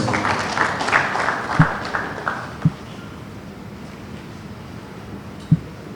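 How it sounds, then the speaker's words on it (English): Applause from attendees at a peace accord signing event for the Anambra governorship election: clapping that fades gradually, with a few dull low thuds from the room partway through. "A round of applause."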